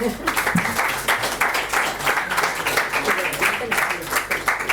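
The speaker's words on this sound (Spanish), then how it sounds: "un aplauso para Natalia" A studio audience applauds for a woman named Natalia, continuous dense clapping from many hands at moderate loudness, with some voices mixed in.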